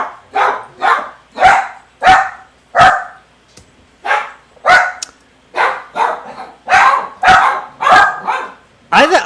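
Dogs barking excitedly at someone outside, a rapid series of about fifteen loud, close barks in uneven bursts with brief gaps, alone without talk.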